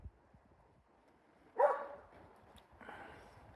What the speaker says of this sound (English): He's a collie dog next door. If he hears people, he likes to bark.